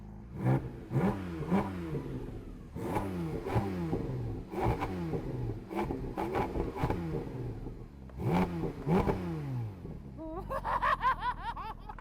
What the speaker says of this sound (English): you can literally hear every single thing this engine is doing right here at your ear.